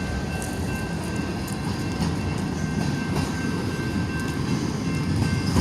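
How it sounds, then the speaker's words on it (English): A long freight train rolls past a crossing, its railcars rumbling and clattering steadily and loudly for the whole stretch, with a faint high whine running through it. "This is a long train, holy crap."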